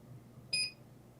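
A handheld barcode scanner gives a single short, bright electronic beep as it reads a barcode on a printed label, clear and close over a quiet room hum.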